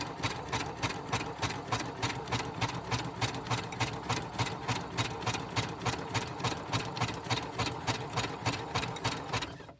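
A sewing machine runs steadily while zigzag stitching, its rapid, even mechanical chatter repeating for about ten seconds, close and with no talking.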